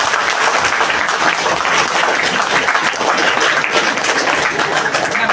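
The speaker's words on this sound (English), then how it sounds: "please give me a very big round of applause" A large seminar audience at a personality development and life skills training session breaks into loud, dense applause, continuous and even throughout with no speech over it.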